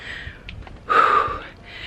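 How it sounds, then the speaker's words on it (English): A short, sharp gasping breath comes close to the mic from someone climbing a long flight of stairs, with fainter heavy breaths around it. "All you can hear is me heavy breathing for like miles."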